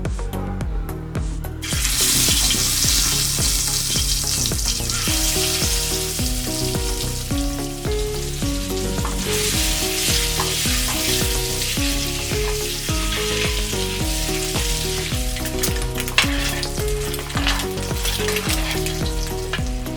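Eggs fry in hot oil in a pan for a dhaba-style egg curry, a loud, dense and continuous sizzle with bubbling crackle that runs close and unbroken for the whole stretch, with no voices.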